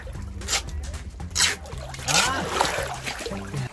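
Water pours and splashes into the back of a truck being filled to make a swimming pool, with irregular sloshing and trickling close by. A low hum and faint voices sit underneath.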